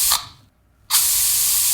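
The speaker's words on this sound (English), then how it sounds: "So we'll spray it out." Hairspray spraying in two bursts: a brief hiss, a pause of near silence, then a loud, steady aerosol spray that continues to the end.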